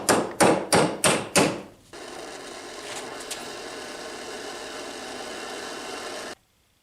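Easy out extractor being tapped into a stuck bolt on a turbo, five sharp metallic hammer taps in quick succession, then a steady mechanical hum that runs on before cutting off, close and loud.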